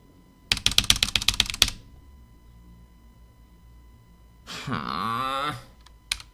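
Rapid typing on a mechanical computer keyboard, a quick burst of about a dozen close, sharp key clicks, followed by quiet and then a long sigh.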